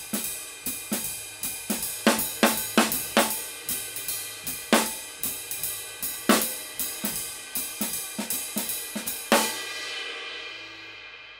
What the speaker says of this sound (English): sometimes I'm going to play it as a ghost note,